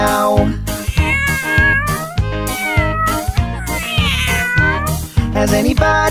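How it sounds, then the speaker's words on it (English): A cat meows repeatedly in a rhythmic, sung pattern over a bouncy musical backing, each meow clear and up front. "The cat goes meow meow."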